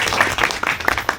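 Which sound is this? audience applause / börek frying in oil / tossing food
audience applause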